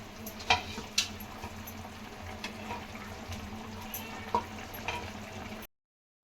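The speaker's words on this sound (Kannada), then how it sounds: "ಚೆನ್ನಾಗಿ ಈ ಥರ ಕುದಿಯೋಕ್ಕೆ ಬಿಡಬೇಕು" Fish sambar boiling in a pot, a soft steady bubbling and sizzling with a few small pops, close and quiet, ending abruptly.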